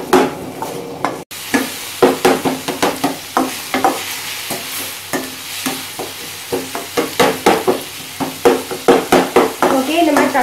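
Small chopped tomatoes sautéing in oil for Punjabi-style dal tadka, stirred and pressed with a ladle, giving rhythmic scraping strokes over a continuous close sizzle.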